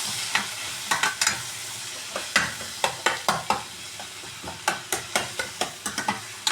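Chili-powder masala sautéing in a pan for egg thokku, with a ladle scraping and stirring in quick irregular strokes over a soft steady sizzle, close and fairly loud.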